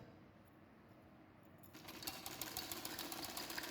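A sewing machine runs a seam around the shoulder of a baby frock, starting faint and then whirring steadily and louder for the last two seconds.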